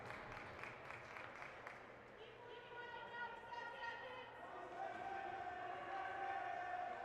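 Crowd at a Tier 2 hockey game in Wyoming shouts and cheers, a broad roar that swells and sustains with tonal voices rising above it, loud and continuous across the arena.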